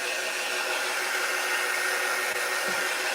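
A hair dryer blows over freshly painted red lettering on a sign, giving a continuous, loud, even airy roar close by with no pauses.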